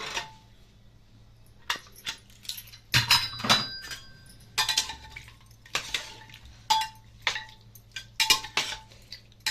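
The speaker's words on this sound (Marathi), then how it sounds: "तर कुकरची हवा गेलेली आहे पूर्ण तर आपण उघडून पाहूयात" A pressure cooker holding green-chilli chicken curry is opened with a series of loud metallic clanks and clinks of the lid and pot, coming in uneven bursts with short pauses between.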